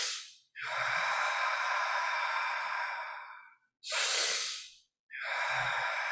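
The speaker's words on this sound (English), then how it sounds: "Breathing deeply." A deep breathing exercise: close, loud breaths drawn long and slow through the chest, with one extended breath followed by two shorter ones, each separated by a brief silence, and no talking.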